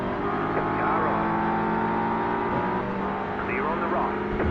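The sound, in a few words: touring car engine in a racing video game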